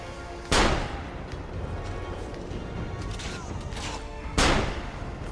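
Two loud broadband booms of cannon fire in Assassin's Creed Revelations, one near the start and another near the end, set over a steady bed of battle noise.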